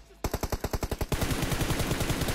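Automatic gunfire in a video game opens with about ten quick, evenly spaced rounds, then continues as a denser, louder burst that runs without a break to the end.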